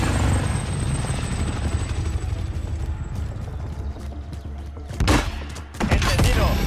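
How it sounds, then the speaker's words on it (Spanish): A helicopter in the video game Call of Duty: Modern Warfare drones loudly and continuously with rotor thrum, and sharp gunfire-like bursts cut in near the end. "Helicóptero en posición para el depósito."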